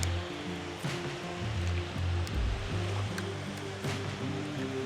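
Water pours steadily over a spillway where people fish for yellow bass, a loud, continuous broadband rush close by with a low churning rumble and no break.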